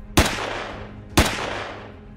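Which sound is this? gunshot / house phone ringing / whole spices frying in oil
gunshot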